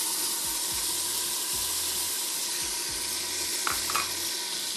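Onions browning in a frying pan fill the air with a steady, even sizzle and hiss, broken by soft, regular low thumps roughly every second.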